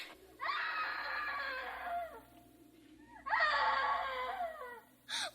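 Two long, loud, wavering screams from a woman, each lasting a couple of seconds with a short pause between, no talking.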